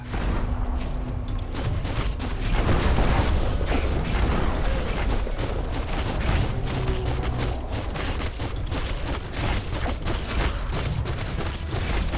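Dense, sustained gunfire rattles through a Biomutant battle, rapid overlapping shots and mechanical clatter forming a loud, continuous barrage with no voices.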